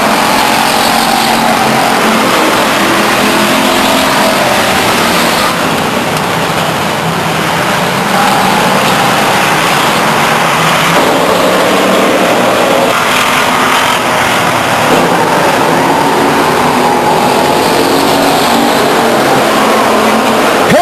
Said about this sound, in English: Green flag racing.